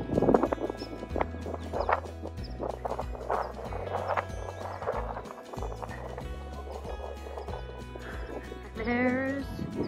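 A young lamb bleats on the Isle of Skye, one short wavering call near the end, over a steady background hum and other noise.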